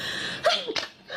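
A single sneeze at a livestream, a sharp gasping intake followed by a quick burst, near and fairly loud, with room noise before and after and no talking.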